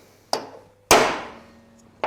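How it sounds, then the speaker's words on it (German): A hammer drives a center punch into a Sachs 3-speed moped cylinder, giving sharp metallic strikes: a lighter tap, then a loud ringing blow with a long decay, then another tap at the end, with no talk. "Und hier 2 feine Körnerschläge."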